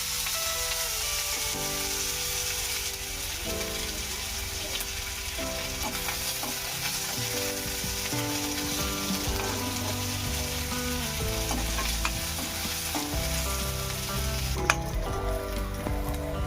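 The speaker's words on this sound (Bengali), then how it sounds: "এখন আমি পেঁয়াজ কিনে ভেজে নিব।" Onions frying in a hot pan during village cooking, a steady, close sizzle lasting throughout under background music.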